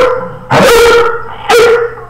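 Marine veterans on a live stream imitate dog barks with their voices, giving two loud, separate bark-like shouts about a second apart, each brief and close to the microphone.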